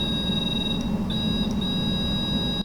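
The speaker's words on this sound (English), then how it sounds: "That beeping noise is set off when something with its own electromagnetic field enters into the detection field" A continuous high electronic beep tone, briefly interrupted a couple of times, over a low rumbling background.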